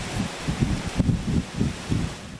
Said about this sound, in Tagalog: Hanggang sa sumisipol na ang malakas na hangin.